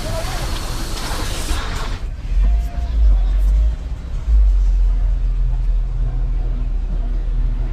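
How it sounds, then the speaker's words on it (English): A 17-foot Jaguar XJ Vanden Plas luxury sedan of the X308 XJ8 series circles through donuts, its engine rumbling low and steady with a deeper surge midway, while faint background voices murmur. "Donuts, Poppy, donuts."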